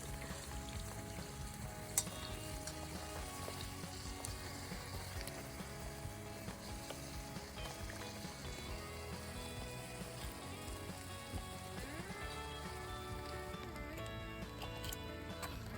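Steady crackling sizzle of puris for pani puri frying in hot oil, continuous and close, with occasional stirring clinks and no talking.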